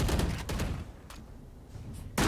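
Gunfire in the video game Valorant comes as quick bursts of shots at moderate volume, with a brief lull and then a sharp shot at the end.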